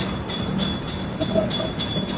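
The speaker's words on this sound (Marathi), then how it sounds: "ही ट्रेन आहे आमचे." A train runs steadily close by, a continuous rumbling rail noise with faint rhythmic clatter, heard on its own with no talking.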